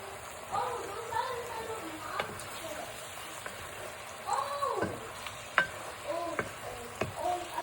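Thyme and rosemary leaves dropped into hot oil in a pot for okra soup, giving soft sizzling and crackling with scattered pops and occasional stirring clatter, fairly quiet and close.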